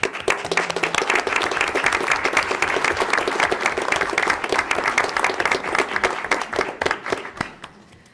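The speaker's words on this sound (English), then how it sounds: "I'd like to also extend a round of applause for our students' family members joining us today." Sustained applause from family members and attendees at a school board meeting, dense and steady clapping filling the room for about seven seconds before tapering off at the end.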